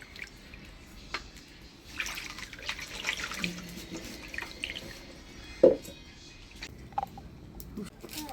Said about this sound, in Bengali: মাংসটা পরিষ্কার করে ধুয়ে নিলাম